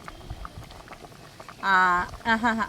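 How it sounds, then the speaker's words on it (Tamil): Spinach greens boiling in a pot in a village kitchen, with two loud bursts of bubbling over quieter background noise. "கீரை வந்து நல்லா கொதி வந்துருச்சு"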